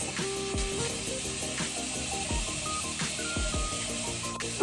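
Running water splashes and hisses steadily as soap is rinsed off a face by hand, close and continuous, with no talking.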